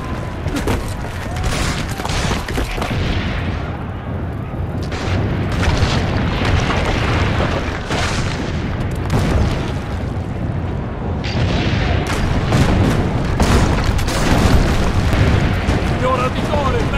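Cannon fire booms repeatedly in the video game Assassin's Creed Brotherhood, loud heavy blasts amid dense battle noise and crackling gunfire, with shouting voices mixed in throughout.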